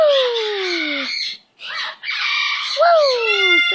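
A pet bird squawks loudly and almost continuously in shrill, harmonic calls with a brief pause midway, close to the listener.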